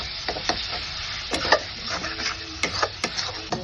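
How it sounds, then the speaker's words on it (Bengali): Spice masala with turmeric and salt fries in oil for an egg omelette curry, a soft close sizzle broken by sharp spoon scrapes and taps against the pan. "মশলাটা ভাজা ভাজা হয়ে গেছে, দেখতেই পাচ্ছেন তেলটা ছেড়ে গেছে মশলা দিয়ে।"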